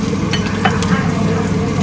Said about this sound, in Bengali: বেগুন আর ইলিশ ভাজা